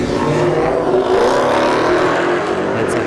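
A Dodge Hellcat Charger accelerating hard down a drag strip, a loud, steady engine roar held throughout, rising slightly in pitch.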